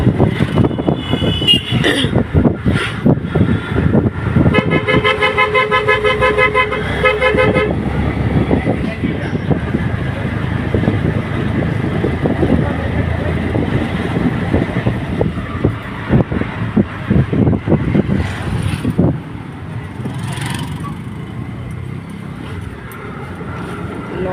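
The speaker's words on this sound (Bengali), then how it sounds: "অটোতে বসে আছি যাচ্ছি স্টেশন" Inside an auto-rickshaw heading to the station, steady engine and road rumble runs throughout with repeated horn toots from traffic, busiest early on, while voices talk over the ride.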